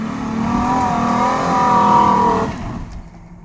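A Nissan Xterra engine revs loudly and steadily while off-roading in La Vega, Dominican Republic, holding a strong roar for about two and a half seconds before dropping away to a quieter, rougher rumble.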